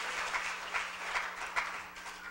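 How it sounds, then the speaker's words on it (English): A church congregation gives a hand clap of praise during a sermon, a soft, diffuse wash of many hands clapping at a moderate distance, steady through the whole stretch with no speech over it. "Give him a hand clap of praise."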